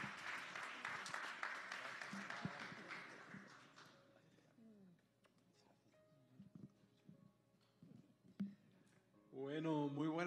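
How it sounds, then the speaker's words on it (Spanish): Enthusiastic applause from a crowd at a Christian worship service fills the first four seconds, then fades into quiet room noise before a voice begins speaking. "vamos a recibirles con un fuerte aplauso"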